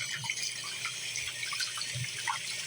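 Water runs steadily from a barely lukewarm hot water tap into a sink, a continuous close hiss and splash with small irregular drips, no voices.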